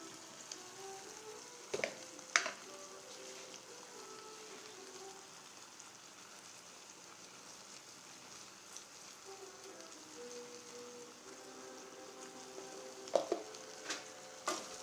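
Tomato and brinjal pachadi fries quietly in a pan, a faint, steady sizzle with occasional light clinks as the mixture is stirred.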